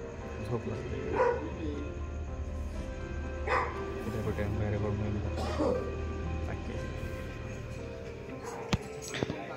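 Dogs bark at night near Moroshi's Bhairavgad. About three separate bark bursts ring out at moderate distance a couple of seconds apart over a constant low background noise, with a sharp click near the end.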